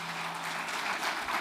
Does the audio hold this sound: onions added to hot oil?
no